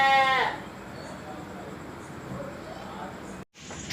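A goat bleats loudly at the start at a busy livestock market, a single wavering cry, followed by a steady hum of crowd noise and someone talking nearby.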